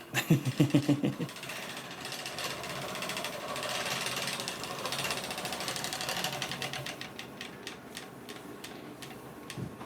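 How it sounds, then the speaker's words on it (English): A spinning wheel for wool turns with a chattering, clicking mechanism, a brief louder rattle at the start then a steady close whir with rapid regular ticks that grow more distinct toward the end, no voices. "now it's not quiet because it's a very chatty wheel, but like so smooth. It spins so smoothly."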